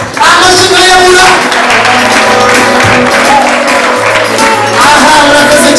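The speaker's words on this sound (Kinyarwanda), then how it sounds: "musomera icyarimwe mwese amashyi ntayabura" Wedding guests clapping together in a loud, continuous wash of applause, with music and crowd voices blending in underneath.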